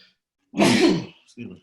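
A single loud, abrupt sneeze, followed a moment later by a short breathy exhale.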